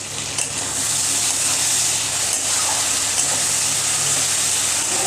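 Bengali spice paste with tomatoes frying in a pan for crab curry, a steady close sizzle with occasional stirring, continuous and fairly loud.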